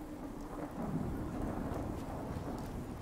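Thunderstorm ambience in the video game Fallout 4: a steady, dense wash of rain with a deep rolling rumble of thunder swelling near the middle, continuous and fairly loud with no talking.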